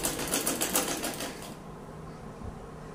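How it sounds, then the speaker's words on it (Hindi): Domestic sewing machine stitching fabric, a fast steady mechanical chatter up close for about a second and a half, then stopping into quiet room tone. "ये मैं कर रही हूँ सिलाई"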